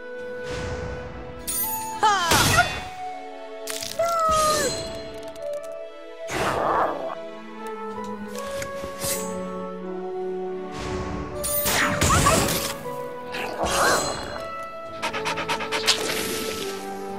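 A dog attacked in South Park: The Stick of Truth, with panting, yelps and whimpers between bursts of smashing and thwacking combat hits, some layered over game music.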